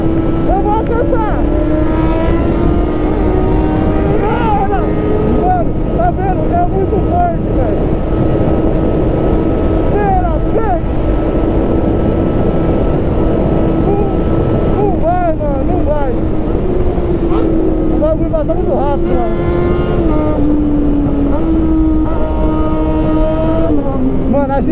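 A Yamaha XJ6 motorcycle engine while riding on the road, a loud continuous drone that shifts pitch with the throttle, buried in heavy wind buffeting on the microphone, with a voice breaking through now and then.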